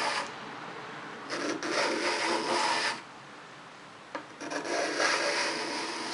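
A card scraper shaves hard rock maple in two close, raspy strokes, each a scratchy rub lasting over a second, with a short gap between them.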